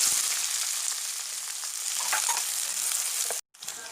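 Chopped onion frying in a tablespoon of hot oil, a dense, even sizzle with a light crackle throughout, close by, cutting out abruptly for a moment near the end before resuming.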